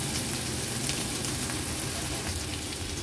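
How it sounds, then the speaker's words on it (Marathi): Chopped spring onion fries in hot oil for an Agri-Koli style seafood meal, a dense, continuous sizzle that holds steady and close throughout, with no voices. "कांदा थोडासा तेलावर परतून घ्यायचा"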